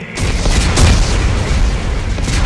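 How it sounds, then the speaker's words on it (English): Armed explosives detonate in Dead Space 3 as a single loud, heavy boom that rolls on as a dense, rumbling roar filling the whole clip. "Computer, arm explosives."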